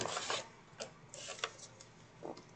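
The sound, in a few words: scoring craft board pieces along a half-inch line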